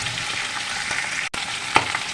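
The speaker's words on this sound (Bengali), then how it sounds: "মাছের মাথাটা ভাজা হতে থাক" A fish head frying in hot oil in a pan, giving a steady close sizzle with soft bubbling crackles and one sharper pop near the end, no voices.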